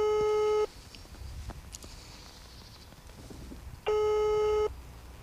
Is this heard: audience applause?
no